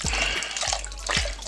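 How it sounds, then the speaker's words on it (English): Beef stock poured into a soup pot in a pressure cooker, a steady close liquid rush with a few low splashy glugs, continuous and fairly loud with no talking. "I'm gonna pour some more beef stock in it"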